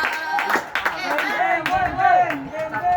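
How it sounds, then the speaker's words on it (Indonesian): A grade 8 class claps for group 4 after its presentation, a steady patter of hands spread across the room while several voices call out and talk over it. "Beri aplaus dulu untuk kelompok 4."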